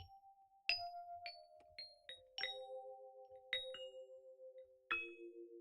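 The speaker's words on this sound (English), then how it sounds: "Silver chimes." Silver chimes preset on the Lounge Lizard EP5 electric piano keyboard plugin, a handful of struck bell-like notes with sharp attacks and ringing sustained tones, clean and isolated with no talk.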